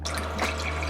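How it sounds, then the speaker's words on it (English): Strained homemade kombucha is poured into a cup, giving a brief, soft liquid splash and trickle over a low steady background hum. "I just pour them right into my drink and"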